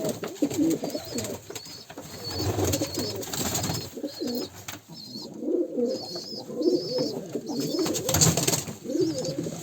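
Pigeons coo repeatedly in low, throaty calls, several birds close by in a village, with faint higher chirps and background rustling.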